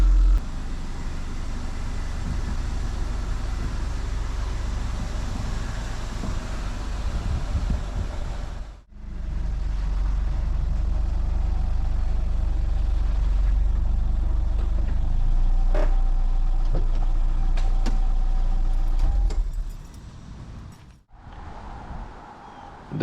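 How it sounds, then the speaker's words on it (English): A Toyota Celica engine idles steadily after a cold start early in the morning, a loud continuous low rumble with wind noise. It cuts out briefly twice, then resumes and fades lower near the end. "That, guys, is a very much cold start on the Toyota Celica."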